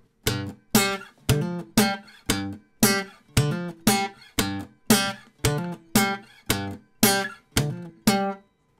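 A guitar played with a percussive slap-and-pop technique: sharp, punchy notes struck in a steady, even rhythm, about fifteen attacks, close and loud.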